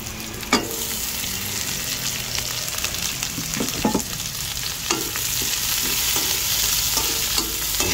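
Onion frying with ginger and garlic in a pan for a beef dish, a steady close sizzle broken by sharp knocks and scrapes of a utensil stirring.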